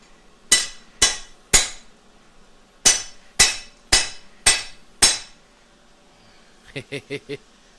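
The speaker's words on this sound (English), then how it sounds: "There's the power hammer." A power hammer in a workshop strikes metal with a series of sharp, loud clanging blows, three quick hits, a pause, then five more, followed by a brief burst of faster, lighter rattling taps.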